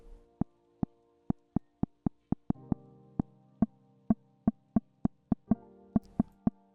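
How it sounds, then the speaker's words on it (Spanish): A distorted synthesized click from the Sylenth1 soft synth repeats in a steady series of sharp, evenly spaced hits, about twenty in all, loud and isolated against silence with a faint low hum between them. "Vamos a ponerle algo de distorsión a ese click."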